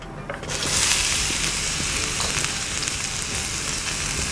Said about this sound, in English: Okay, some oil, and then in go the onions.